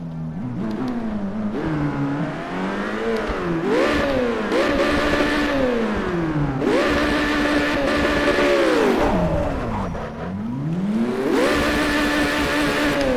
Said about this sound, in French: Faire ronronner le moteur